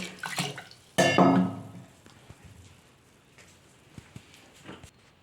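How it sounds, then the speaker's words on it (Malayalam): Water poured into a pot of Kerala sambar with dal, okra, tomato and green chillies makes a short splashing gush that fades quickly, followed by a few faint clinks and small taps. "ഇതിനാവശ്യമായ വെള്ളം ഒഴിക്കുന്നുണ്ട്"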